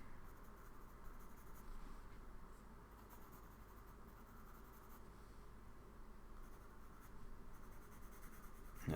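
A 4B pencil shades across paper in a continuous soft, grainy scratching that stays close and even throughout, with no talk over it.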